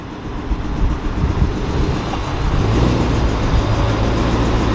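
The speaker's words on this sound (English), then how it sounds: "So put the car in reverse." A Chrysler 300 SRT's engine runs in a low, steady rumble with grinding undertones from a blown differential as it reverses, continuous and fairly close, with no talking.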